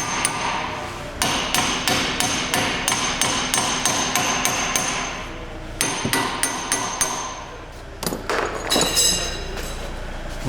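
Repeated metal hammer blows knocking out a bolt on the rear wheel hub of a Volvo XC90, loud, close and ringing, struck in rapid regular runs with short breaks between volleys.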